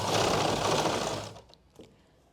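Sewing machine running steadily while stitching fabric along a marked line on a pant or palazzo, a dense continuous whir for over a second that then stops, leaving quiet room sound.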